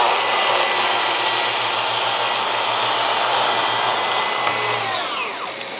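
Festool TSV 60 plunge-cut saw with a scoring blade cutting into a board, a loud, steady high-pitched whine running continuously for several seconds before tapering slightly at the end.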